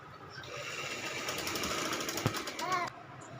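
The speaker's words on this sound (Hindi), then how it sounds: "ये वानिया के कपड़े मैंने सिलाई करने शुरू किए हैं। ये गला बना रही हूँ" A sewing machine stitches the neckline of a child's clothes with a fast, steady rattling hum throughout. A faint voice sounds in the background, and there is a brief knock near the end.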